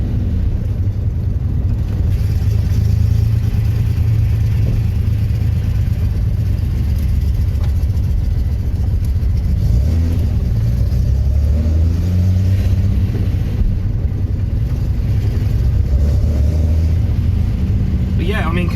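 A Datsun L28 straight-six car engine, fitted with an oversized carburettor and cam, rumbles loudly from inside the car as it accelerates while driving, the low drone steady throughout with a voice talking over it.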